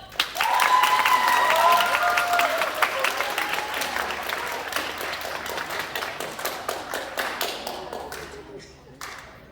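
A crowd at a school sustainability fashion showcase applauds loudly at first, the clapping gradually thinning out and fading over several seconds, with scattered individual claps near the end.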